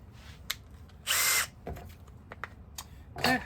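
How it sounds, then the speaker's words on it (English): Short bursts of an impact driver drilling a 1/2-inch hole into a wooden lure board, with a loud sustained run in the middle and another near the end, separated by quieter clicks and handling noise. "I'm drilling this with a 1/2-inch hole. Just using this impact driver."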